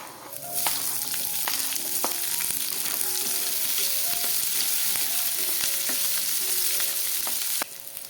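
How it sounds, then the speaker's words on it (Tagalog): Garlic and onion sautéing in a hot pan for chicken liver and gizzard, a steady loud sizzle throughout with clinks of a spatula against the pan, close and without talk. "Kapag luto na ho yung ating bawang ay isusunod naman ho natin ang ating sibuyas."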